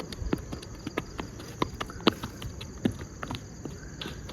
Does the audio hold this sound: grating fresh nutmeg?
no